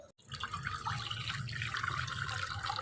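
Water pours steadily into a cooking pot in a rural Bengali village kitchen, filling it to steam bottle-gourd leaves; a continuous, close splashing stream with no talk.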